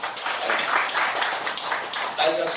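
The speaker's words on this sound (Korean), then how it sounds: "이거 박수 해야 돼." An audience at a church sermon breaks into brief scattered applause, a soft close patter of hands lasting a couple of seconds with a voice speaking over it.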